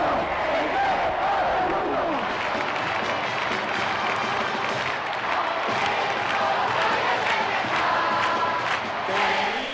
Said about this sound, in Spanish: Momento en el que todo el Bernabéu estalló en un clamor.